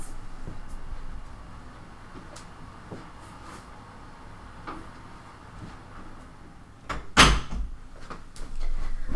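An office door in The Sims 4 swung shut with a sharp, loud bang near the end, after a stretch of soft game ambience and faint ticks.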